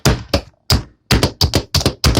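A knife chops red onion on a cutting board in a home kitchen during burger prep, with about ten sharp, close, rhythmic knocks in quick succession and brief pauses between them.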